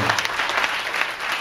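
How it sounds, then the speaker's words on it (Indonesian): A church congregation at an Indonesian service applauds together in a dense, steady burst of clapping that fills the room without a break. "berikan tepuk tangan paling meriah"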